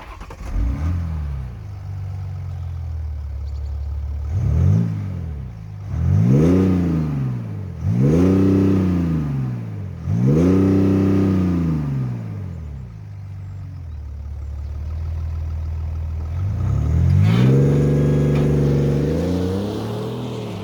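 A 2020 BMW X5 M50d diesel engine idles, then revs repeatedly in several rising and falling bursts, loud and close, ending with a longer, stronger rev.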